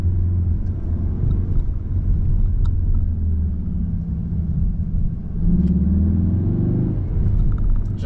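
Engine sound fills a car cabin as the driver shifts with paddle shifters, a deep, loud, steady rumble that sounds like an American V8, swelling and easing with each change.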